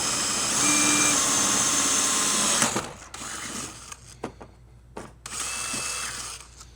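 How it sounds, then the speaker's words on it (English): Power drill boring pilot holes for a front splitter on a Corvette C8, a steady loud whir for nearly three seconds, then scattered clicks and bumps before another sustained burst of drilling near the end. "There's one pilot hole done."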